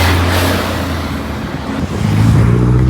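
A small car drives past on a city street, its low engine hum shifting in pitch as it moves, with general traffic noise around it and rising again near the end.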